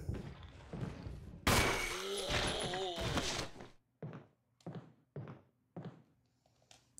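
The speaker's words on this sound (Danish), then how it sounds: "Nu bliver jeg skudt den gang." Gunshots striking the player in Resident Evil 1, a loud impact with a ringing burst followed by a series of separate sharp thuds spaced about half a second to a second apart.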